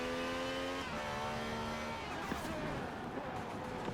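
A 1,000-horsepower race car in Forza Horizon 4 revs hard, drops pitch at a gear change, then fades as tires squeal and skid on the road, loud and close with no voices.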